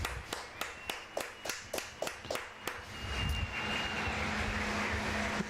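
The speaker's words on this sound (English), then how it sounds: "They're clapping and cheering and so relieved" A high school football crowd of Cardinals fans applauds, about nine sharp, evenly spaced claps giving way to a broad, continuous roar of cheering and clapping.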